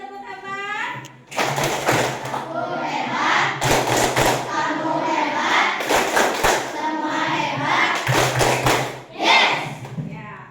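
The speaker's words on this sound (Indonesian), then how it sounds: "Berikan tepuk tangan." Students in a classroom clap together in several loud bursts, with cheering voices and thumps between the rounds of applause.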